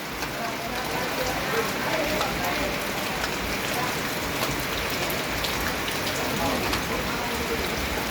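Steady rain pours down throughout, a dense continuous hiss of drops on surfaces at a constant level, heard during a rural Thai merit-making festival day.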